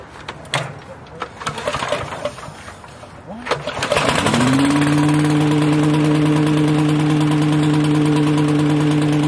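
A 10 HP Billy Goat walk-behind machine's small engine is started after choking, catching with a rising sputter before settling into a steady, loud, close idle as it warms up, with some handling noise before it fires.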